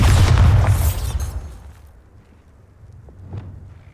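A Bombarda spell explosion in Hogwarts Legacy bursts loudly at once with a deep boom and crackle, then fades into a low rumble with a smaller thud near the end.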